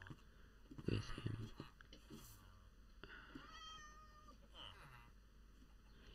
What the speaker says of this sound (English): we're also starting to spawn cats because of the number of villagers.